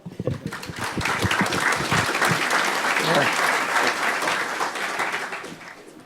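An audience at the DEF CON hacker conference in a talk room bursts into loud, sustained applause for a speaker. The clapping starts quickly, stays dense and steady for several seconds, then tapers off toward the end.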